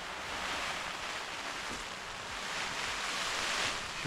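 Steady rain and gusting wind roar together as a dense, continuous rush of noise, fairly distant and even throughout.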